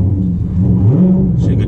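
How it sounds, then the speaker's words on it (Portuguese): Car engine revving while warming up, a close low rumble that swells in pitch briefly mid-clip, heard under someone talking. "Vai dando aquela aquecida no motor."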